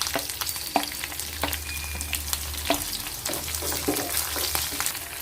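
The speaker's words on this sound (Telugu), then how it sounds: "ఈ గింజలు నూనెలో వేగితే చాలా బాగుంటుందండి." Green and dry red chillies fry in hot oil for a ponnaganti leaf chutney, a steady close sizzle broken by sharp pops and spatters and occasional spoon scrapes, with no talking.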